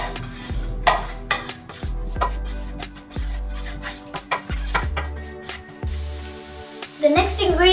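A spoon scrapes and taps steadily in a pan while turmeric is mixed into shrimp curry with ginger garlic paste, giving rhythmic clinks over a low sizzle.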